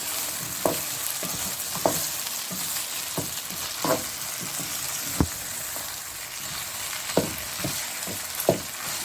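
Courgettes fry in ghee with cooked mutton mince in a pan, a continuous close sizzle punctuated by regular knocks and scrapes of a stirring spoon.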